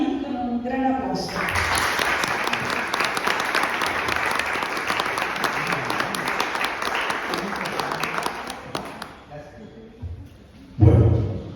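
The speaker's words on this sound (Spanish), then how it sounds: "Recibamos a Gianni con un gran aplauso." An audience bursts into loud, sustained applause to welcome a speaker at a talk on the Arena di Verona. The clapping runs for about eight seconds before fading, with voices heard before and after it.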